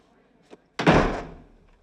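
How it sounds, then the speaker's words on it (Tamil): A door is pushed shut in a single loud, close thud that rings out and fades over about a second, preceded by a faint soft bump, in a Tamil-dubbed romance film scene. "கதவு கொஞ்சம் மூடு"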